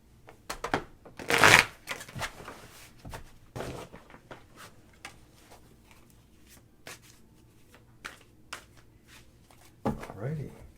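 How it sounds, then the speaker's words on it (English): Tarot cards being shuffled by hand, with soft riffling and rustling bursts, one loud flurry early on and scattered lighter shuffles after, near and fairly quiet. "So now I'm going to shuffle the cards"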